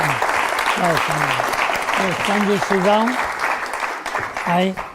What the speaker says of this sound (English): Applause anyway, applause.